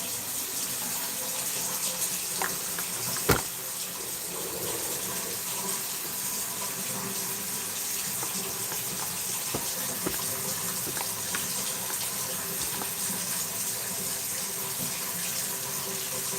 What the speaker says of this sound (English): So what we're gonna do now is just add some water